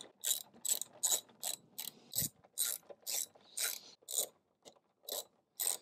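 A hand ratchet clicks in quick, evenly spaced bursts while backing out T30 bumper screws on a 2015 BMW X3, about a dozen close, crisp strokes with short pauses between them.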